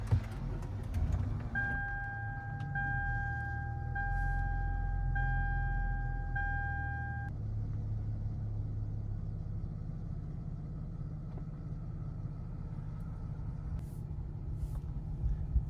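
Car starting and settling into a low idle, a steady deep rumble under a repeating electronic chime that beeps several times before stopping, leaving the quiet engine hum alone.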